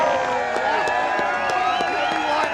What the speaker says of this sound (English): Can we hear a little applause here?